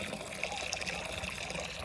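Water running steadily nearby, a continuous gushing trickle with no voices.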